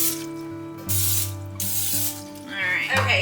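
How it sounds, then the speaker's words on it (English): Short hissing bursts of Pam cooking spray from an aerosol can, repeated a few times at close range, over a steady background hum. "So I'm gonna go ahead and spray with some Pam spray here."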